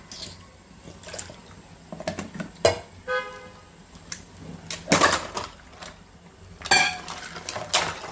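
Water poured into a bowl of partly set ice at home, a short gurgling pour amid clinks and clatters of ice and dishes, close and intermittent.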